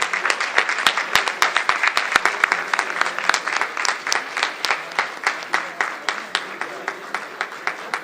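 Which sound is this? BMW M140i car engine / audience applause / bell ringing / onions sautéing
audience applause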